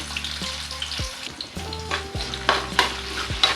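Ginger pieces and green chillies fry in hot tempering oil for tamarind pulihora, giving a steady crackling sizzle with occasional louder pops and stirring sounds over a low background hum.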